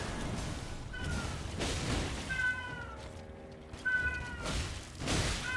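A cat meows repeatedly, several drawn-out cries close by over a soft background rumble.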